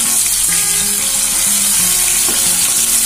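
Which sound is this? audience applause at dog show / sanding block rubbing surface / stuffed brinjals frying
stuffed brinjals frying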